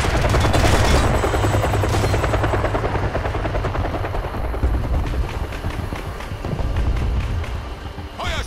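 A helicopter in the Kane and Lynch: Dead Men video game, loud and close, its rotor chop thudding steadily throughout amid bursts of rapid gunfire.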